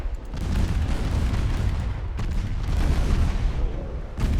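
Torpedoes strike warships in the naval battle game Ultimate Admiral Dreadnoughts, giving a heavy rumbling boom that rolls on for about two seconds before a second deep blast follows, loud and low with no talk over it.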